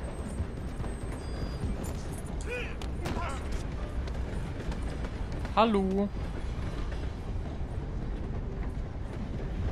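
A steam train rumbles past in Red Dead Redemption 2, a continuous low mechanical clatter and roll of rail cars beneath the game's ambience, with a brief spoken greeting and a short voice-like tone midway.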